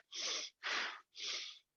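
Three quick, forceful sniffs through the nose in an even rhythm, each short and breathy, heard close up with no voices.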